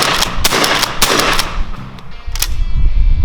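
Shotgun blasts of steel shot fired at about 30 yards through a half choke, loud close reports with sharp onsets and a ringing tail, several in quick succession.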